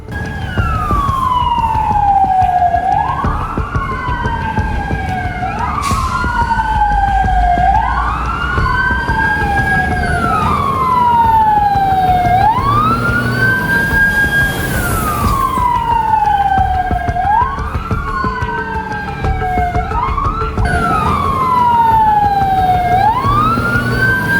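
Fire engine and police sirens at a hospital emergency drill in Karasu, loud and near, wailing in steady repeating rising and falling sweeps that overlap throughout.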